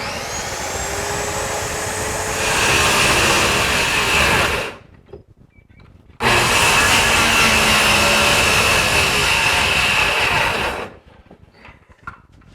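A power saw plunge-cutting into wood runs as a steady loud whining buzz, stops briefly, then starts again for a second sustained cut before cutting off, heard close with no talking.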